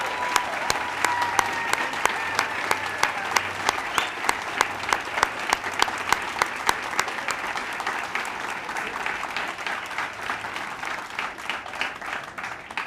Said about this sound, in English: Let's give everyone a great big round of applause.